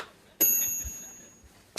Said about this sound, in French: C'est quoi cette sonnette?